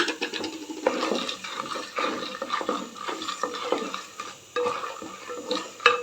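Cloves fry in oil in a pan for vegetable pulao, giving a busy sizzle mixed with repeated scraping and clinking of a spoon against the pan, close up with no talking.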